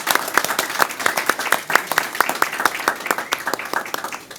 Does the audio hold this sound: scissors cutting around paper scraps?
no